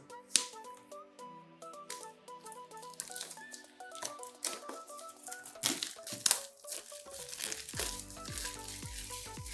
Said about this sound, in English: So let's just get rid of this plastic cover first